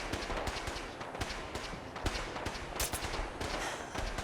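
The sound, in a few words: gunshot from the video game Fallout 4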